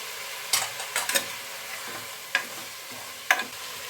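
Avare dal and chana dal stirred and fried in a pan, a steady close sizzle punctuated by several sharp scraping strokes of the spoon against the pan.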